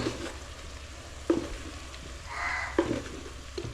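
Coriander powder stirred through hot oil in a frying pan for a beef curry masala, a steady soft sizzle broken by a few sharp spatula scrapes against the pan, close up with no talking.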